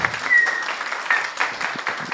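Audience applause for panelists at an educational leadership colloquium, a steady wash of clapping from many hands lasting a couple of seconds, moderately loud with no speech over it.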